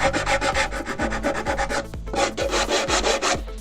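Hand plane or rasp rubbing along the edge of a wooden shelf board to chamfer it, a steady run of close, loud back-and-forth scraping strokes roughly twice per second.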